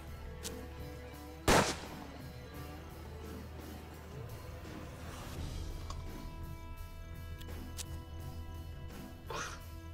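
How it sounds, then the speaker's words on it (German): A revolver fires one sharp, loud shot early on in the Western video game Hard West, then quieter game ambience and a few faint clicks follow. "wir laden die Muskete nach für die nächste Runde und knallen ihn dann aber mit dem Revolver"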